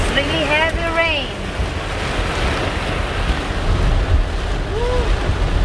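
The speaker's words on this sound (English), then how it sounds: "This is really heavy rain." Heavy rain pours around a car driving through bad weather in Ohio, a steady, loud wash of water noise, with a voice speaking briefly at the start and again near the end.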